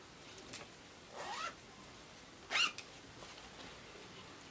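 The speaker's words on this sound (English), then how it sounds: "It has a zip on the back" A zipper on the back of a dress is pulled in two quick, bright zips a second apart, close and clear against near silence.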